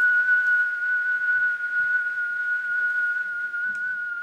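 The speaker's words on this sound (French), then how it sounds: "Moi j'ai mis siffler longtemps" A person whistles one steady, sustained note for several seconds, fairly close, with a faint background and no talking.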